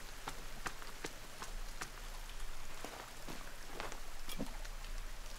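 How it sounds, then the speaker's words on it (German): Steady rain in the survival video game The Forest, with an even hiss of drops striking surfaces and scattered louder individual drops, continuous and fairly quiet, with no talking. "Alter, gut, dass es regnet."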